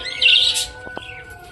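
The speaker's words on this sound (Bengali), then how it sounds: "এটা হচ্ছে স্প্যাঙ্গেল বাজিগার পাখি" Spangle budgerigar chirping in a cage, a short bright warble followed by two brief chirps, close and fairly clear over a low background hum.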